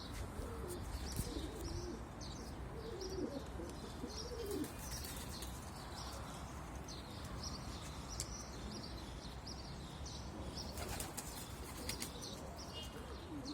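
Pigeons in a loft give soft, repeated cooing and a few light chirps over low background hiss, fairly faint and continuous, with occasional wing flutters.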